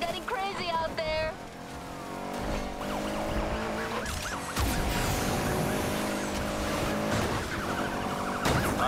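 Police pursuit in the Need for Speed Heat racing game, with roaring car engines, tire squeals and wailing patrol sirens sweeping up and down continuously, dense and loud throughout.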